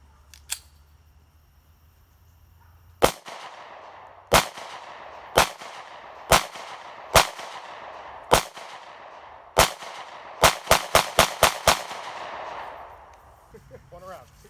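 Gunshots fired at pumpkins outdoors: a series of sharp, loud cracks with ringing tails, spaced every second or so, then a quick burst of five rapid shots near the end.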